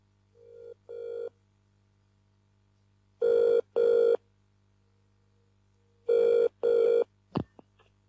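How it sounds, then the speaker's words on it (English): An old-style telephone rings in double bursts, two short pairs of bright rings separated by silence, clear and close over a faint low hum, followed by a brief click. "Get him on the phone."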